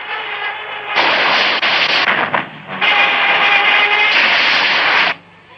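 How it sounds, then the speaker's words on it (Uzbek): Pirates fire guns and cannons at a ship. Heavy, dense booming blasts roar in two long loud bursts with a short break between them, then cut off to near quiet. "Qaranglar, bizga qarata o'q uzishyapti."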